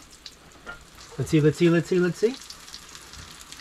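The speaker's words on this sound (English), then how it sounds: "flipping large flat things in boiling oil is a bit precarious" Large flat pieces of food fry in boiling oil aboard a wooden boat, giving a soft sizzling hiss under a short spoken phrase.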